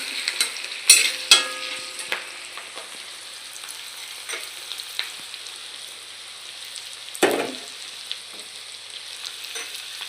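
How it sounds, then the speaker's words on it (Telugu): Onions and green chillies frying in a pan, with a steady soft sizzle, scattered scraping stirs and a couple of sharper clinks near the start, heard alone without talk. "ఉల్లిపాయ పచ్చిమిరపకాయ బాగా వేయించండి"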